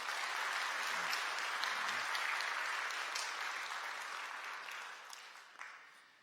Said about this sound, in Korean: 여러분들 따뜻한 환영의 박수 부탁드리겠습니다.